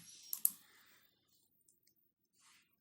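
A quick mouse double click, close and crisp, followed by a faint tick and near silence while selecting the boot partition and confirming with OK during Linux disk partitioning.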